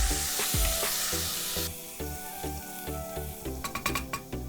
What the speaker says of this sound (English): Just fry that for a few seconds.